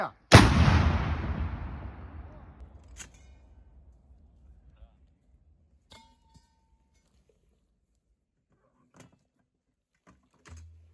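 One powerful artillery gun blast booms up close at a firing position in the Serebryansky forest and rolls away in a long fading rumble, followed by a few faint clicks and knocks in near silence.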